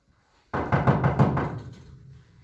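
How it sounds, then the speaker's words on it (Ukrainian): Several quick knocks on a door in an indoor nursery-group holiday party setting, a short rapid series of close, fairly loud raps followed by a brief fading tail. "Давайте ще постукаємо."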